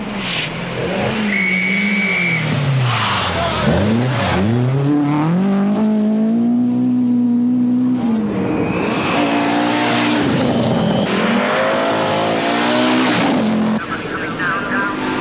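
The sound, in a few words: rally cars driving, 1983 Lombard RAC Rally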